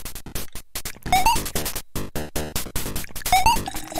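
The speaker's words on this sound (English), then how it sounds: "Love the Metal Gear Solid sound effect there." A Metal Gear Solid–style alert sound effect plays in the video game Alley Cat Remeow Edition: brief, sharp rising chirps heard twice amid busy, chaotic game noises.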